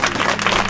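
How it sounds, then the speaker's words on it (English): A funeral congregation applauding, dense and loud clapping from a large crowd filling the space without pause. "Can we give the funeral home a round of applause"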